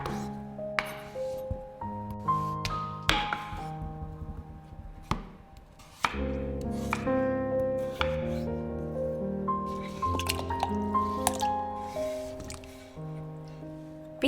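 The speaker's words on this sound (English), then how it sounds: "dice the potatoes" Potatoes being diced with a knife on a cutting board for a home-cooked potato dish, a steady series of close, sharp chopping taps over soft background music with no one speaking.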